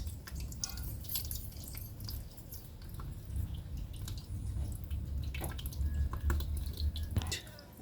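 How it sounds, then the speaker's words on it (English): Faint, irregular drips and trickles of excess water draining from holes in the bottom of a planter, with soft wet squishing sounds and a low background rumble. "Alright, so the excess water is draining out."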